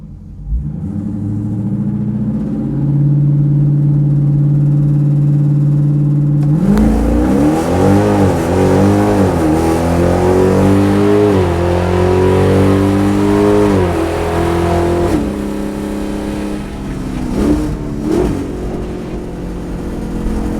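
A naturally aspirated 392 Hemi drag car on a stock tune idles with a steady rumble, then launches hard off the line, its engine screaming up through several quick gear changes before easing off near the end.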